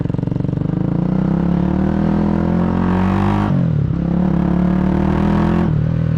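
A 1986 Honda GB250 Clubman single-cylinder engine with an aftermarket single-into-twin exhaust runs loud and close, thrumming steadily, with a few blips of revving and dips as the throttle drops back to idle.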